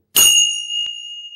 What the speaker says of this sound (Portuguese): Este tilintar do sino, bem estridente, nos acorda e nos remete imediatamente ao presente.